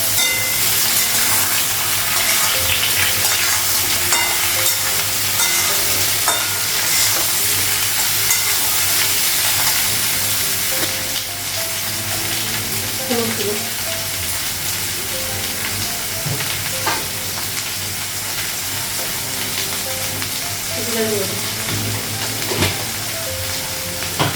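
Potatoes frying in a kadai sizzle loudly and steadily, with occasional stirring scrapes and clinks layered over the continuous hiss, close up in a home kitchen.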